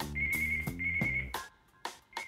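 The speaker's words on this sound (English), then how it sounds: "Oh, it's ringing." A home landline telephone rings in repeated electronic bursts, a steady warbling tone broken by short gaps, interrupted by clunks and rustling as the handset is handled near the end.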